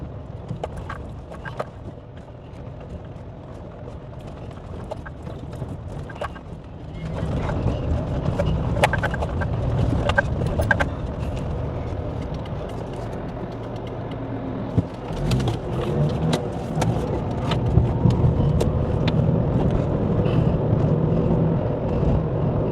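A car driving along a partly unpaved village street in Yahotyn, Ukraine, heard from inside as a steady low engine and road rumble that grows louder partway through, with scattered bumps and rattles and no talk.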